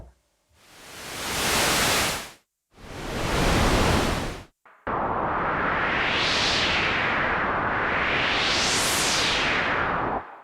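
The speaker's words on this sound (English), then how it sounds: "we also have a noise generator that goes from white to pink" Noise generator on a Sequential Take 5 synthesizer: two swelling bursts of hissing white noise, then a steady wash whose brightness sweeps up and down twice like surf, loud and alone.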